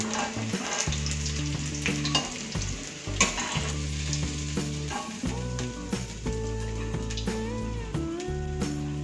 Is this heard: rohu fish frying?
yes